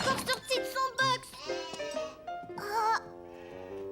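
A small sheep, smaller than the rest of its flock, bleats in a cartoon farm scene, giving several wavering, nasal cries in close succession, loud and near.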